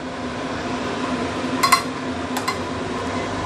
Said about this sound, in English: I'm going to carefully use a spatula to turn it around.